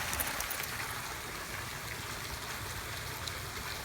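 A waterfall on a water sculpture pours into a pool, producing a steady, even rushing hiss that carries on without a break and with no talking.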